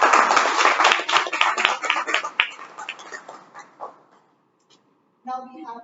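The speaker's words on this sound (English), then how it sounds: "So huge applause to Toastmasters." A burst of applause from a small group at a Toastmasters meeting that fades out after a few seconds, followed by a brief silence and then someone beginning to speak.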